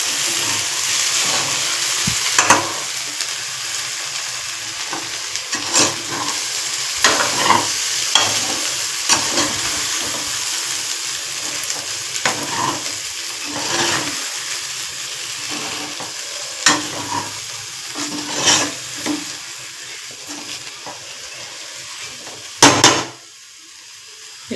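Grated coconut being stirred in a hot frying pan, a loud close sizzle with rhythmic spatula scrapes and knocks against the pan, ending in a sharp clatter.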